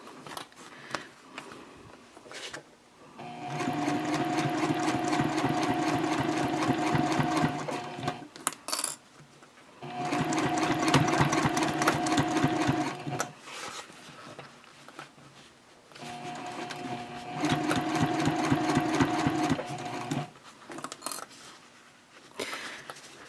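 Sewing machine stitching waxed canvas for a messenger bag at a half-inch seam and 2.5 stitch length, three steady bursts of rapid needle chatter separated by short pauses with fabric handling.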